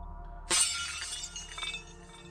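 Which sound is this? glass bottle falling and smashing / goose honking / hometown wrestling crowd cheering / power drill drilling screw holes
glass bottle falling and smashing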